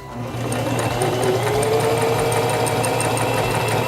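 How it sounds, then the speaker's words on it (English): A Singer Simple 3232 sewing machine stitches a seam, starting up and then running in a steady, loud, fast mechanical hum with rapid regular needle clicks throughout. "Release the reverse lever and sew along your seam."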